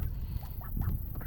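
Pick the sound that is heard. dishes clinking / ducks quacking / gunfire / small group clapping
ducks quacking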